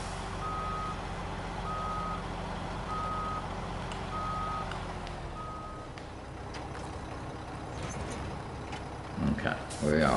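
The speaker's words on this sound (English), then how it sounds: "Reverse is really slow in this truck, isn't it?" Truck reversing alarm in the video game SnowRunner, five evenly spaced beeps over a steady engine drone, stopping midway before some louder clatter at the end.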